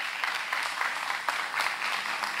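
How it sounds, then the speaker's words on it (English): An audience at a secondary school spelling bee applauds two tied contestants with a steady, continuous wash of clapping throughout. "Give them a round of applause, please."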